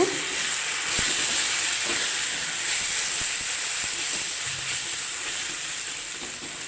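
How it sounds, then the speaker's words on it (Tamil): Chili and coriander powder sizzle in a hot pan for a wedding-style potato masala, a loud, continuous frying hiss with faint scrapes of stirring underneath. "மல்லித்தூள் ஒன்றரை டீஸ்பூன் எல்லாம் போட்டு ஒரு வதக்கு வதக்கிடுங்க"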